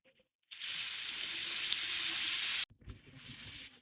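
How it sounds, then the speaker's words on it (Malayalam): Mature ginger and curry leaves hit hot oil in a pan for a Kerala inchi puli, giving a loud hissing sizzle that starts abruptly, cuts off briefly, then resumes a little softer. "ഇത് നന്നായിട്ട് ചുമക്ക വറുത്തെടുക്കണേ."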